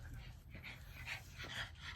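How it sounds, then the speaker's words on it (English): A dog pants and whimpers faintly while struggling to get a bark out, producing soft strained whines and breathy yips close by at low volume. "He's having trouble getting the bark out."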